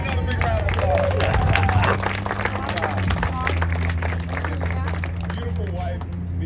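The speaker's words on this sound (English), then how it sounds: "Give him another big round of applause." An outdoor crowd at a trail ribbon-cutting ceremony applauds, a broad patter of clapping with cheers and voices over it, laid over a steady low hum from an amplified sound system.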